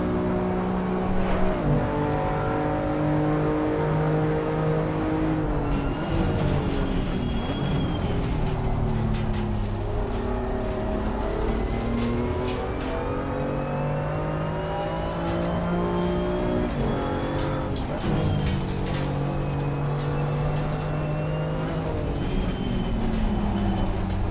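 BMW M2 CS race car on a flying qualifying lap at Zandvoort in a racing video game, its engine climbing through repeated rising revs with abrupt drops at gear shifts, loud and continuous.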